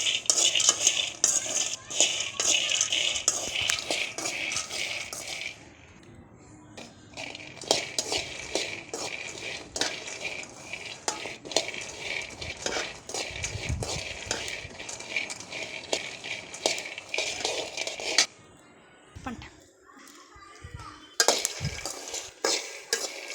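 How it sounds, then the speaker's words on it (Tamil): Peanuts roasting in a pan while being stirred with a metal spoon, a close steady rattling scrape and rustle that pauses briefly and then resumes. "வேர்க்கடலையை வறுக்கலாம்."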